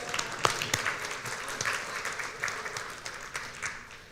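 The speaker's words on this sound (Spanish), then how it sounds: "Fuerte aplauso, por favor, ahí" Applause at a church gathering, fairly faint clapping from a group with a few sharper individual claps standing out.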